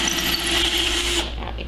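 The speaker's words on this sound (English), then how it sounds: "when you're drilling the hole, and then flip your switch to reverse when going out, like this" A power drill whines steadily while boring a hole in wood for an owl nest box, then the pitch drops and the motor winds down as it reverses out; close and loud, no talking.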